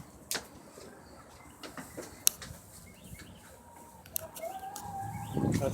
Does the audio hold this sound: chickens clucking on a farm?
yes